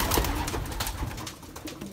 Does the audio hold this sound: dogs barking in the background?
no